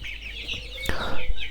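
Chickens cluck close by in short, overlapping bursts on a cool rainy-season day, with a sharp flutter or knock midway.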